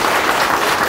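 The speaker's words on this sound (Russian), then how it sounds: "Давайте ему похлопаем." Audience at an award ceremony clapping, a dense, even burst of applause filling the room, loud and close, cut short.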